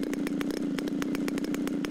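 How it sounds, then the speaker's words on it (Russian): The motor of the largest drone aircraft in Omsk, shown at a Youth Day celebration, roars in a fast, rough, pulsing beat, loud and close with no talk. "Ревет мотор самого большого беспилотника в Омске."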